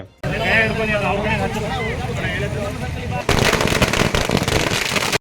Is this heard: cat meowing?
no